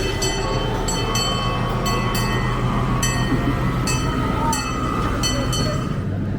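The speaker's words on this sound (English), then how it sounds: "Alright, we're riding the train." A theme park train ride at Story Land in Glen, New Hampshire rumbles along steadily, with a bright ringing bell or chime sounding repeatedly at irregular intervals over the constant rolling noise.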